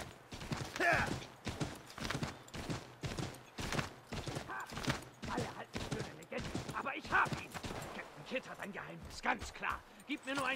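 Rapid clip-clopping hooves in a steady galloping rhythm, fairly loud and close, with a voice talking over it, from the video game Assassin's Creed III.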